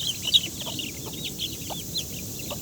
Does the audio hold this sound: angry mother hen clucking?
yes